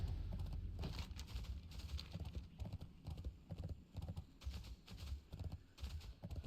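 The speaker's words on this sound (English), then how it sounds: "Riding on me donkey." In the Grimfall World of Warcraft game, a donkey mount trots along with a steady patter of hoofbeats, mixed with rumbling ambient game noise.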